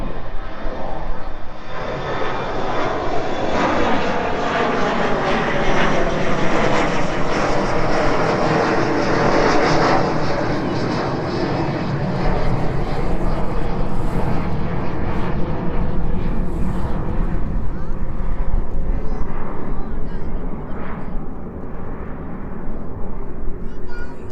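An Embraer jet takes off and climbs away at East Midlands Airport, a loud, steady engine roar that holds for the whole stretch with a broad rushing wash and a slight swell partway through.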